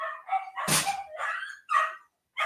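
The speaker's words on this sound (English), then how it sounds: "they're barking again" Dogs bark and yip in a quick burst of short, sharp calls, close and loud, with brief gaps between them and no talking.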